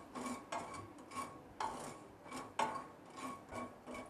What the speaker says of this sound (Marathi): ही खसखस आहे ना ती सुद्धा भाजून घ्यायची आहे, परतून घेऊया